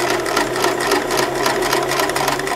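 A sewing machine stitches fabric steadily around curves, its rapid needle hum running continuously at close range with no talking.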